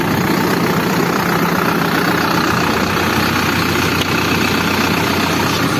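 A heavy tractor engine idles steadily and loudly throughout, a constant low rumble with no voices.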